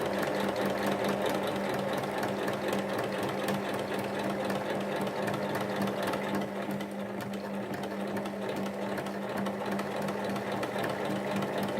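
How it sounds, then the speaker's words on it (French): A sewing machine stitches fabric for a Christmas basket with handles, running steadily and loud for the whole stretch with an even mechanical hum and rapid needle rhythm, no voices. "On pique tout le long, 1 cm du bord."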